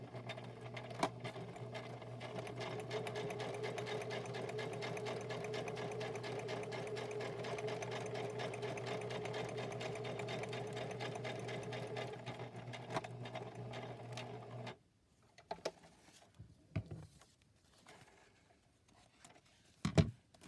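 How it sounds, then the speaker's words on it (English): A sewing machine runs steadily for about fifteen seconds, chain stitching fabric pieces one after another, then stops, followed by a few quiet handling clicks and taps. "I'm going to go ahead and stick the next one in so I can chain stitch them."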